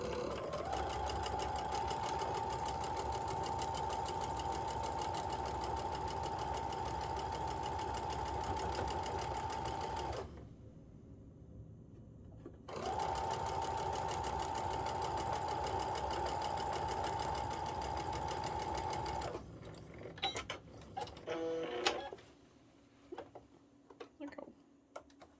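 A sewing machine stitches fabric pieces together down the center in two long, steady runs of motor whine and rapid needle ticking, separated by a brief pause, then ends in scattered handling clicks.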